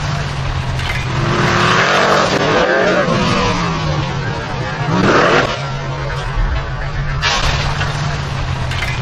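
Formula Offroad race car at Stapafell, Iceland, engine roaring loud and near with rising revs and surges over rough terrain, continuous for several seconds without talk.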